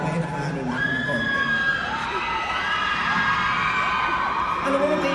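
A large audience at Araneta arena shouts and cheers in a dense, continuous roar, with high whoops and screams rising above the crowd noise.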